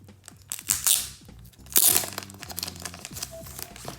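Tape and tissue paper are peeled and crumpled off trading cards from a vending series, in close, crisp bursts of crinkling and tearing, with louder rustles coming in two main surges.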